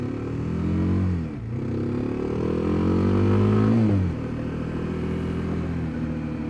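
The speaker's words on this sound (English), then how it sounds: "I've been loving this KLX 250 as well." Kawasaki KLX 250 dual-sport motorcycle being ridden, its engine loud and close with rising and falling revs through gear changes, a brief dip near the start and steadier running toward the end.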